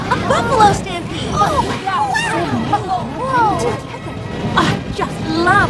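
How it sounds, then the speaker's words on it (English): Cartoon buffalo herd from My Little Pony: Friendship Is Magic stampeding toward a train, heard as a loud, continuous rumbling clatter with crashes and many overlapping excited voices and whoops throughout. "Buffalo stampede!"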